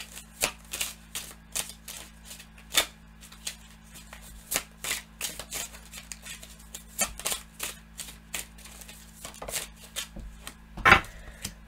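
A tarot deck is shuffled by hand in repeated quick riffling bursts, close and crisp, separated by short quiet gaps with a faint steady hum underneath.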